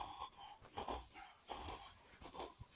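A man imitates snoring with his voice, giving several rough, wheezy snorts and breathy rasps in an irregular rhythm, fairly quiet and up close.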